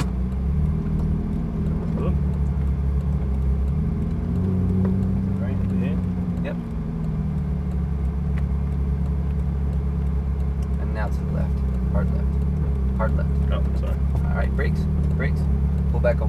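Ferrari 458 engine droning steadily and loudly throughout, a low rumble building as the car accelerates, with a voice speaking over it.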